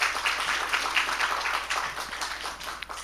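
A church congregation applauds at a Sunday morning service, steady moderate clapping from many hands that holds for a few seconds and slowly thins.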